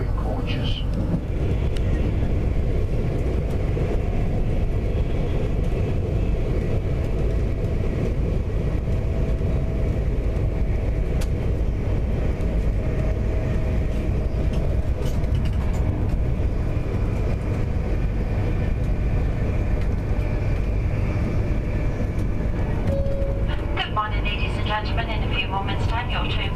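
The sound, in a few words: train running, heard from inside the carriage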